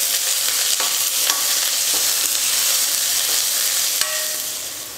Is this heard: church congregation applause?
no